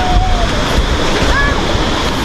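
Water cascades down a waterfall in Laos, a loud, unbroken close roar with a few faint bird calls.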